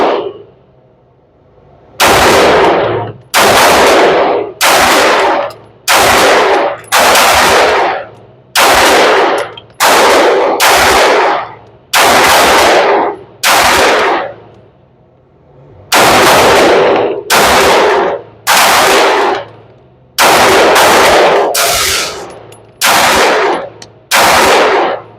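Repeated gunshots from a Canik TTI Rival SFX standard polymer-frame pistol fired outdoors on a range, coming in loud sharp strings of rapid shots with short pauses between strings.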